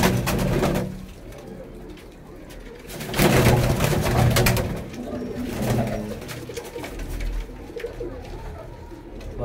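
Several grey pigeons coo in low, throaty bursts, overlapping and fairly close, with a louder flurry of cooing partway through.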